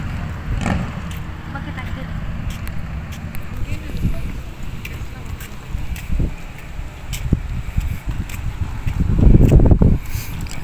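Gusty wind rumbles and buffets the microphone outdoors by a flagpole in Abu Dhabi, swelling into a stronger blast near the end, with voices talking faintly underneath.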